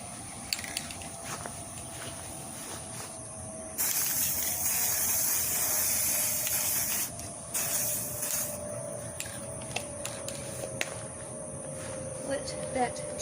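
Black spray paint hisses from an aerosol can in two loud bursts, one about three seconds long and a shorter one after it, with faint clicks and a steady background hum between them.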